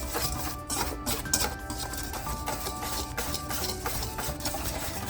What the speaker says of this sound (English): Go ahead and just mix your dry ingredients.